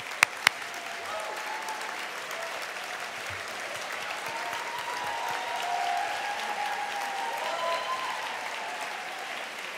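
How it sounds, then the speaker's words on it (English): A large audience claps steadily in a sustained round of applause at a gala keynote event, dense and even, with no voices over it. "Big round of applause"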